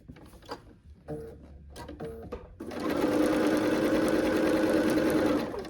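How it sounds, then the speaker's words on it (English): Sewing machine stitching a quilt's flying geese block: a few soft handling clicks and rustles, then the motor kicks in for a loud, even whirring run of rapid stitches lasting about three seconds. "I'm going to just fold it over and sew."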